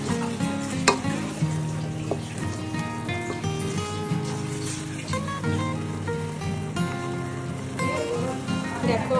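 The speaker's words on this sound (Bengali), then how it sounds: "আবার একটু পেঁয়াজ আমি অ্যাড করে দেবো। ফ্রাই করে নিতে হবে।" Onions frying in a pan for chicken rezala, a steady close sizzle and crackle like rain on a surface, with occasional stirring clatter running throughout.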